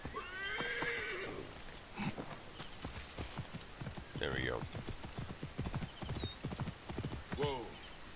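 Horse hooves clip-clop steadily in the Assassin's Creed Origins video game, with several clear whinnies rising over the gait while someone talks over the game.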